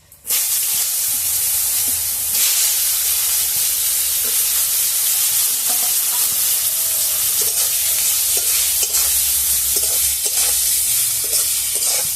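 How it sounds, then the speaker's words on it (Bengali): Eggplant frying in hot oil seasoned with salt and turmeric gives a loud, dense, unbroken sizzle and hiss close by, with occasional soft clicks and stirring taps running underneath. "তেলে সামান্য পরিমাণে একটু নুন দিয়ে দিচ্ছি, আর একটু হলুদ দিয়ে দিচ্ছি, দিয়ে বেগুনটা ভেজে নেব।"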